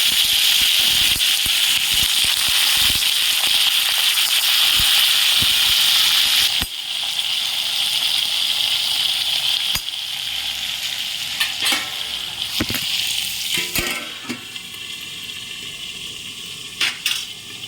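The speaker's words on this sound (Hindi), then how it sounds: "बस ये हो गए, इसके बाद मैं इसमें आलू प्याज डाल देती हूँ।" Potatoes and onions fry with mustard seeds and cumin in hot oil, giving a loud, steady hiss that drops to a quieter sizzle partway through, punctuated by occasional clinks of stirring.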